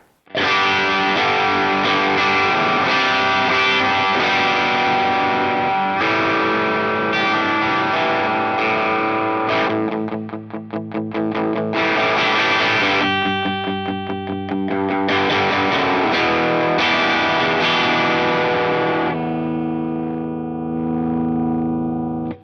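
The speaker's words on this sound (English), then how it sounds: "I'm gonna add a little bit more gain." An electric guitar through a budget US Dream distortion pedal with the gain turned up gives heavier, grittier distortion, playing sustained chords and riffs continuously and loudly, with a brief thinner passage midway.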